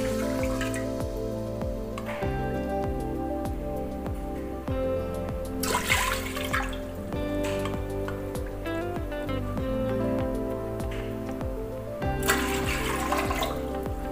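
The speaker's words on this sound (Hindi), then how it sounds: "ते इहदे विच असी पावांगे तीन कौलियां पाणी दीआं।" Water is poured in bursts into a pressure cooker while cooking namkeen dalia, giving splashy gushes against a faint background hum, with quiet pauses between the pours.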